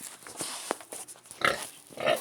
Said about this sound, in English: Now I'm showing you my pig.